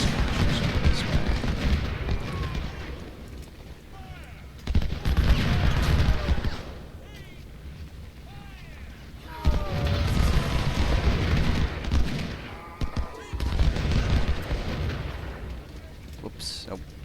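Booming artillery and crackling musket volleys roll through a Civil War battle in Ultimate General: Civil War, coming in heavy waves with quieter gaps between them. Someone talks over the gunfire.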